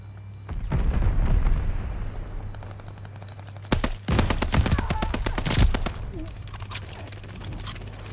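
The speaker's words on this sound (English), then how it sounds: "Friendly bombing run inbound." Friendly bombing run in Call of Duty Vanguard: rumbling blasts and heavy explosions build up and then hit in a cluster of loud booms, with gunfire crackling throughout and a low steady hum beneath.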